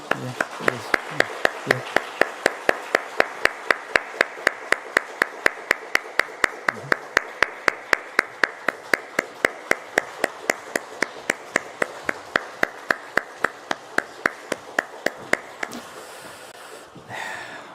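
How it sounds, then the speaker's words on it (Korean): A church congregation at a family early-morning prayer service claps together in a steady, fast rhythm, about four claps per second, loud and sustained for around fifteen seconds before stopping abruptly. "우리 다시 한번 뜨겁게 박수하겠습니다"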